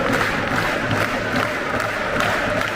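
A stadium crowd at a Brest versus Rennes football match roars steadily during a triple substitution. The dense cheering and chanting fills the whole moment without a break.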